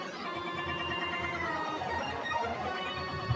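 A synth lead of square waves runs through parallel reverse delay and a crystallizer, giving a dense, shimmering wash of stacked harmonics with bright, glittering high end, sustained steadily and alone for the whole stretch.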